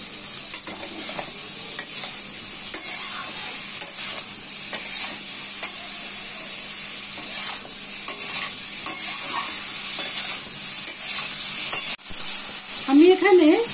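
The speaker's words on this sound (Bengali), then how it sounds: "আমি এখানে নুন মিষ্টি হলুদ দিয়ে ভালো করে নেড়ে চেড়ে 1 মিনিট মতন নেড়ে নিয়েছি, মানে ভাজা ভাজা করে নিয়েছি।" Vegetables with salt, turmeric and sugar sizzle steadily in a pan for a Bengali side dish while a utensil stirs and scrapes repeatedly, close and continuous, with a brief higher scrape at the end.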